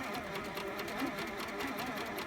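Sewing machine running steadily while free-motion quilting a repeated number 9 pattern, a close, continuous whirring hum at moderate volume with no pauses.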